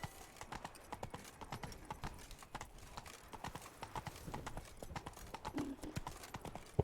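Horse hooves gallop in The Witcher 3: Blood and Wine, a fast, steady clip-clop rhythm throughout, fairly quiet and mid-distance, with faint background sounds and no speech.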